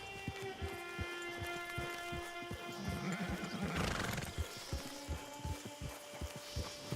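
A horse neighs loudly at close range while its hooves clip-clop in a steady rhythm. A whinny peaks near the middle, and the footfalls continue throughout.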